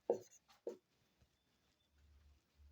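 Handwriting during a class 10 maths lesson on circles: a few short close scratches of pen or chalk at the start, then faint low rumbling noise, with no speech.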